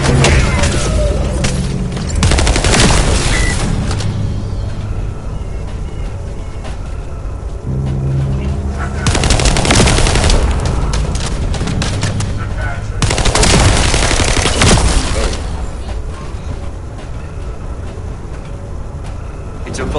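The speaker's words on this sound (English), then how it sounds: "I'll operate turrets to keep the surrounding area secure" Heavy automatic turret fire in The First Descendant erupts in loud, dense bursts with booming impacts, alternating with quieter stretches of rumbling combat noise across the whole stretch.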